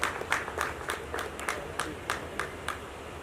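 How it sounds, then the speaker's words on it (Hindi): Audience applause welcoming a guest to the stage at a music video launch event, a light, thin spatter of separate claps in a loose rhythm, moderately near, over faint room murmur. "रूमी जाफरी साहब से गुजारिश करता हूं पुरजोर तालियों से इस्तकबाल करें तो डाइस पर तशरीफ ले आए।"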